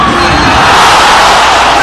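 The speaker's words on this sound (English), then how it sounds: "This Cuneta Asobel crowd going bananas with that Yakult slam dunk" A basketball arena crowd at Cuneta Astrodome roars loudly and continuously, cheering a slam dunk in a Ginebra versus Coke game, a dense wall of shouting with no pause.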